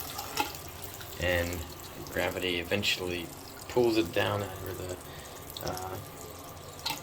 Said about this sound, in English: you start the siphon by turning on the water